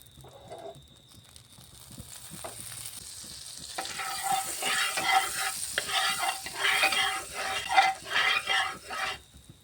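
Butter sizzling and frying in a kadai on a gas stove, quiet at first and then building into a steady crackling sizzle with stirring scrapes for the rest of the clip.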